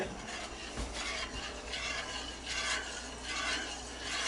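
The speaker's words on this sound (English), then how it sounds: "You just keep stirring it until it gets thick" Spoon stirring a thick homemade mac and cheese sauce in a pot, a steady close scraping and swishing with a soft sizzle beneath, continuous with gentle surges in intensity.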